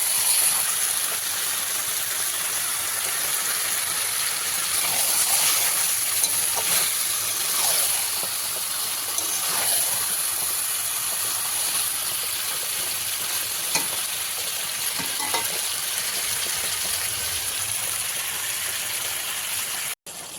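Mutton kasha stir-fries with kasuri methi and fried potatoes in a pan until the oil separates, making a steady, loud, close sizzle with faint stirring scrapes throughout and no talking.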